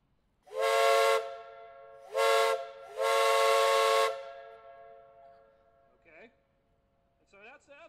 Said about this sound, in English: the first little whistle we're gonna blow, the one red, that would have been on like a small steam, like a farm tractor